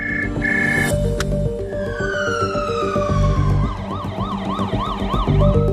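A UK ambulance siren wails nearby, switching from a rising wail to a fast yelp pattern over steady engine rumble.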